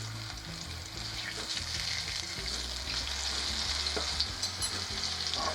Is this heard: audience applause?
no